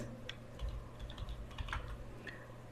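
A computer keyboard is typed on while entering an Excel formula, a faint, steady patter of soft key clicks over a low hum, with no voice.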